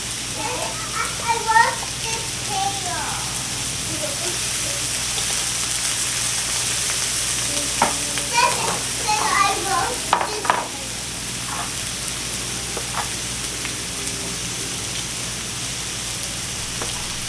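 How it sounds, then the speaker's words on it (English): Shrimp and melting butter sizzle steadily in a pan on a hibachi-style cook, with scraping stir sounds and a person talking over the constant frying hiss. "So we're just going to keep stirring these up until that butter is nice and melted in there."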